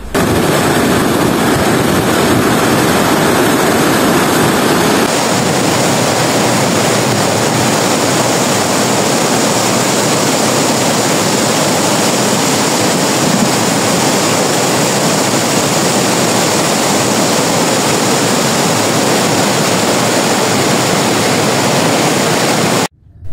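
The muddy, fast-flowing Shigar River roars with a dense, constant rush of water close by, a loud unbroken wash of noise that holds steady for over twenty seconds with no voices.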